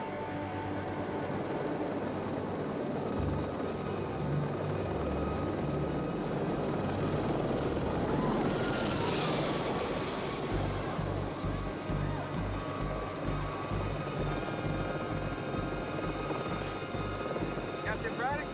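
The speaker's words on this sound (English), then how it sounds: "here she comes, the most awesome helicopter ever built" Blue Thunder helicopter passing overhead, a loud continuous rotor thump with a high turbine whine that swells and bends in pitch as it goes by, under a voice speaking.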